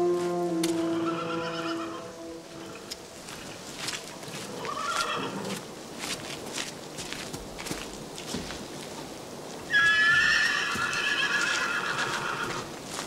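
A horse neighs loudly up close, with hooves clip-clopping in a steady rhythm. A second high whinny rings out near the end.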